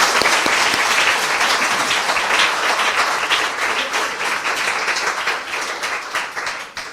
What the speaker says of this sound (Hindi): आइए प्रभु यीशु के लिए जोरदार ताली बजाएं।